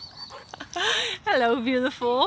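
A dog in a forest gives a few whining, yelping vocalizations up close, two or three drawn-out cries in a row, while a person speaks over them.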